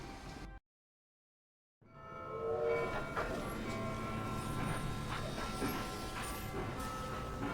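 Steady train rumble with clattering rails in the video game Haunted, a game train heading to London, starting abruptly after a brief silence and continuing loud and even throughout.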